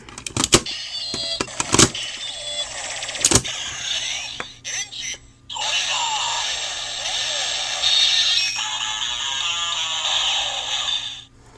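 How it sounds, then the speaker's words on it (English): Electronic sound effects from a Kamen Rider W Engine Blade toy: rapid clicks and bursts, then a long whirring synthesized tone with chiming sweeps, with a voice talking briefly in between. "So it does work, even though the E is backwards and it wouldn't make sense. But sound-wise, they do work."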